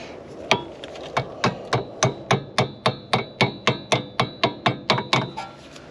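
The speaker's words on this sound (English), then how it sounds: "that was just putting back in the retaining clip here" Repeated sharp metallic taps, about fifteen evenly spaced strikes close up, as a retaining clip is knocked back into place on a Hyundai i30 rear brake caliper during a brake job.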